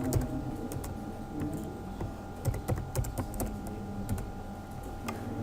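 Fast, light keystrokes on a computer keyboard tap out in irregular bursts, close and clear over a faint steady hum.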